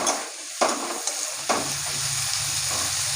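Raw jackfruit pieces frying in hot oil, a loud continuous sizzle with two sharp spatula knocks early on and stirring scrapes throughout.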